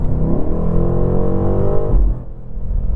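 A 2024 BMW M8 Gran Coupe engine revs hard with a rich, throaty roar, then drops off abruptly as the throttle lifts, leaving a lower rumble.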